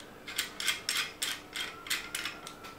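The rod of a Scarab Arms TGR2 rifle is screwed back into place during reassembly, giving a steady run of soft, close mechanical ratcheting clicks at an even rhythm, with no talking.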